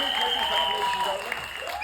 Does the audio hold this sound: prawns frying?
no